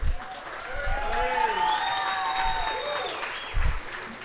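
Wedding guests applaud during the toasts, a sustained crowd clapping under cheering and whoops, with a few louder bursts near the start and end.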